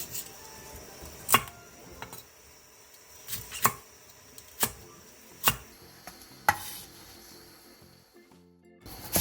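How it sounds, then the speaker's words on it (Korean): A knife chops halved green onion into 3 cm lengths on a board, with about eight sharp, separate taps spaced unevenly across the stretch, each close and clear against a quiet background. "대파 2분의 1개를 길게 반으로 갈라 3cm 정도 길이로 잘라주세요."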